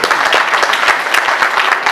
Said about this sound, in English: Hey, clap for them.